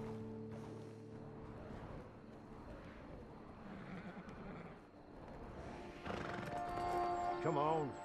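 A horse whinnies loudly near the end, after a stretch of hoof clip-clops and low ambient rumble, with a voice speaking briefly, in Red Dead Redemption 2 Online.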